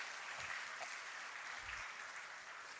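Sustained applause from an audience at an Independence Day address, clapping for Nitin Gadkari; a dense, even wash of hands that is moderately distant and continues throughout.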